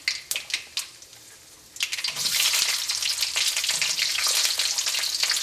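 Shallots dropped into hot oil for sambar, a few sharp clicks then a loud steady sizzle of frying that fills the rest, close and alone.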